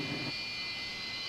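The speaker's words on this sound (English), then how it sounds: "Track sweepers and jet dryers, you hear them in the background finishing up on the front straightaway." Jet dryers and track sweepers run along the front straightaway of the Phoenix oval before a NASCAR Sprint Cup race, a steady distant turbine whine and broad roar with a low rumble fading early.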